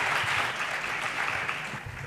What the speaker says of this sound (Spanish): os pido que la recibamos con un cálido aplauso